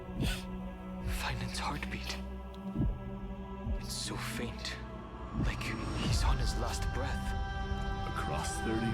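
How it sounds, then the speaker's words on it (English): Finen's faint heartbeat in the video game Honkai: Star Rail: soft, low throbbing pulses under a steady hum, with a voice talking over it. "Finen's heartbeat. It's so faint"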